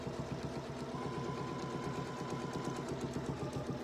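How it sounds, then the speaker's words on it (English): A sewing machine runs steadily while stitching a quilt up to a mitered corner line, a continuous close mechanical whir with a fine rapid rhythm and a faint tonal whine, no pauses. "Sewing right to the miter line right there"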